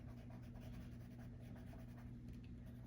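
An orange marker colors in stamped pumpkin images in small circular strokes, a faint, steady scratchy rubbing on paper that continues without pause and with no talking.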